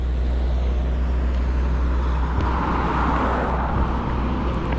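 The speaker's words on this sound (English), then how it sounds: "It's quite a busy road, very busy." Traffic on a busy coastal road with cars, buses and big trucks, a loud continuous roar with deep rumble and a vehicle swelling past toward the end, no talking.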